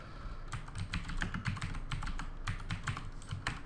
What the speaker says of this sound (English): sorry about my clicky keyboard, but it's amazing